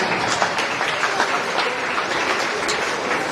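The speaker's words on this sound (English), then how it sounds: "Let's give them a round of applause as they head on back." Steady crowd applause fills an agricultural fair arena after an intermediate swine showmanship class, a dense continuous wash of clapping hands from the audience without pause.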